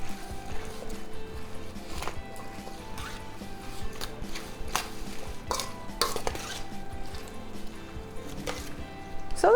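Raw vegan Israeli salad of cucumber and tomato with cumin being tossed and mixed in a bowl: repeated close clatter of the utensil against the bowl over soft, wet rustling throughout.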